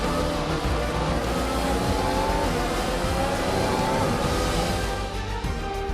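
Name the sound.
race car engine in F1 2021 video game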